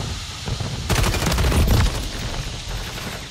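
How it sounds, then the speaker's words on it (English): Sniper fire in Modern Warfare 3 rings out as a burst of loud gunshots in a dense cluster near the middle, followed by a trailing echo. "The guy's sniping now."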